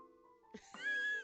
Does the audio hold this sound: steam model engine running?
no